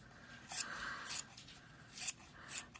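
Four or five quiet, crisp snips of scissors cutting yarn for pom poms, spaced at irregular intervals, close by, with a faint background hiss and no voices.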